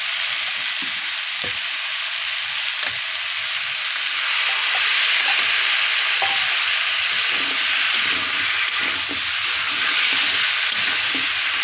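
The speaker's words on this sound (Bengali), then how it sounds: "মশলাটা তো কষাচ্ছি। মশলার সাথে কষিয়ে নিচ্ছে।" Spice masala frying with taro in a pan, a steady loud sizzle and hiss that rises slightly midway, with occasional soft scraping and stirring taps and no talking.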